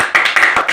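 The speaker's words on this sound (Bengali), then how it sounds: "হাততালি।" A small audience claps for a third-place winner at a home competition, a brief burst of close, uneven hand claps lasting under a second.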